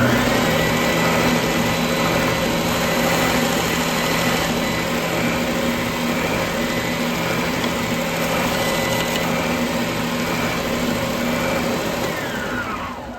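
A Bauer oscillating belt/spindle sander runs continuously on wood, giving a steady, fairly loud mechanical hum and whir with a constant motor tone that tapers slightly at the end.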